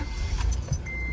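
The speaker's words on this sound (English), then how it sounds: "Now I'm gonna start it." An Acura TL engine cranks and starts after a starter replacement, a dense, steady low rumble with a rattle of keys on top, close and alone for about a second.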